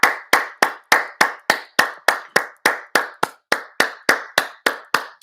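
Clapping for a guest, heard as a single person's sharp, evenly spaced claps, about three per second, close and dry with nothing else in the background.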